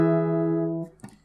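On an acoustic guitar playing a fingerstyle song arrangement, a sustained ringing chord fades out and is followed by a single short, muted percussive slap across the bottom three strings, close and clear.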